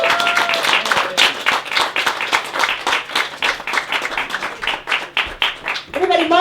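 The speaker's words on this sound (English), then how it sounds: "give yourselves a round of applause" A talk-show studio audience claps loudly and continuously for several seconds, a dense, close wash of hand claps, with a voice speaking briefly at the start and again near the end.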